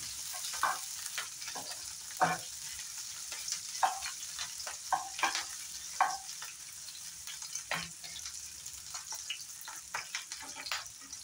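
Curry leaves and green chili fry in a pan with a continuous close sizzle, punctuated by irregular scraping and stirring clatters from a spatula.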